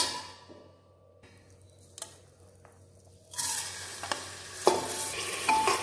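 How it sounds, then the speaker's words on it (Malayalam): Washed rice being sautéed in ghee in a pan for ghee rice, a soft stirring scrape at first, then a steady louder sizzle with spoon clinks against the pan, close up with no talk. "ഇതിനെ നന്നായിട്ടൊന്ന് വഴറ്റി കൊടുക്കാം."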